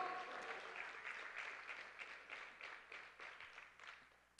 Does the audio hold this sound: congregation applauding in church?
yes